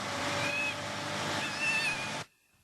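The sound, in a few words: cat meowing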